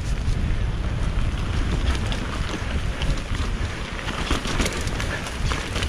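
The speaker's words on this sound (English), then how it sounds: "A shitload of wind." Strong wind roars steadily into the microphone for several seconds, a dense and unbroken rushing buffet with no voices.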